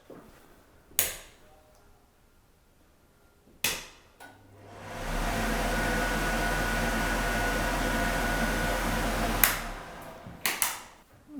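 A white box extract fan in a kitchen switches on with a knock, then runs as a steady loud whoosh with a low hum for several seconds. Sharp clicks and knocks come before and after.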